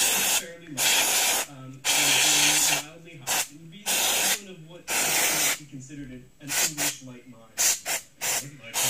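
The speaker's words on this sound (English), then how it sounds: "I'm giving it a good spray of contact cleaner" Contact cleaner hisses from an aerosol can into the small tuner of an RCA 8PT-7032T radio in several loud bursts. Someone talks in the pauses between the sprays.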